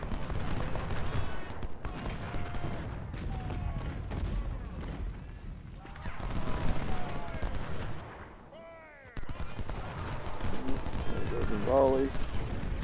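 Musket volleys and artillery crack and rumble in the Civil War strategy game Ultimate General: Civil War during the Cross Keys battle, dense continuous gunfire with booming shots while someone talks over the din.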